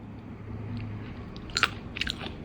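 Crunchy peanuts being chewed up close, with a brief cluster of crisp bites and crunches after a quiet, murmuring start.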